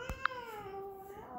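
Cats meowing indoors, one clear drawn-out tonal meow filling most of the moment, with a short higher chirp near its start and a faint thump at the beginning.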